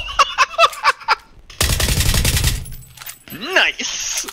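A burst of rapid automatic gunfire in PUBG, loud and close, lasts about a second amid excited shouting voices before and after.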